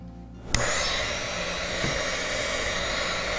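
A dryer switches on and blows a steady, loud stream of air to dry a handmade craft piece, continuing unbroken after the click of starting.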